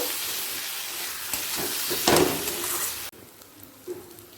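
Onions frying in oil in a pan for egg curry as sugar is stirred in, giving a steady sizzle with brief scraping stirs and a sharper burst midway, then the sound quiets to a softer hiss.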